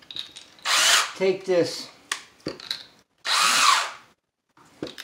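Power drill driving a screw to anchor a rail bolt into a hole during drywall repair under a sink, two loud whirring bursts with a short pause between, close by, with someone talking between and over them.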